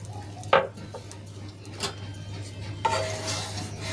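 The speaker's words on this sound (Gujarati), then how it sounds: "સરસ રીતે આપણે મિક્સ કરી લઈશું" A spoon stirs a semolina and potato mixture with water in a pan, giving a few soft scraping and clinking strokes with a low hum beneath. No one speaks.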